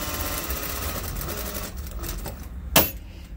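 Sewing machine running steadily while stitching a shoulder seam on a vintage robe, a close, continuous rapid mechanical whir that carries on for about three seconds and ends with a sharp click.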